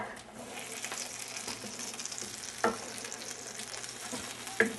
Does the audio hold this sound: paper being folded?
no